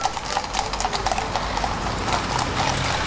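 Hooves of the Horse Guards' black horses clatter along the Mall in London during the Changing of the Guard ceremony, a steady, fairly close clip-clop of many horses with no talk.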